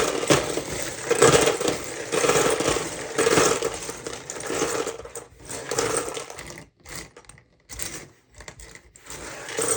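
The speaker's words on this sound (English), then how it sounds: "We'll grab a container to dump a little bit of the stuff in so we can make a bit more room." Small plastic Lego minifigure pieces pour and clatter into a container, a dense rattling cascade close by that thins into scattered clicks and pauses toward the end.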